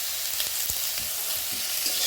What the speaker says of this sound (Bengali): এরপর এটাকে একটু ভেজে নিতে হবে